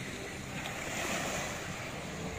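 Sea surf at a beach by the Waterworld Pantukan resort in Compostela Valley, a steady wash of waves rolling in with wind across the microphone, fairly loud and continuous with no talk.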